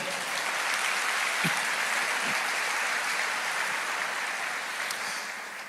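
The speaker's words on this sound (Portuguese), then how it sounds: "Pode aplaudir." A church congregation at a sermon applauds in a sustained, even wash of clapping that swells early, holds steady and tapers slightly toward the end.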